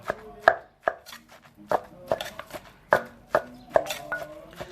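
Chilies and aromatics pounded in a mortar for a Thai jackfruit dish: about ten sharp, close thuds in an uneven steady rhythm, each with a brief woody ring, and no talk.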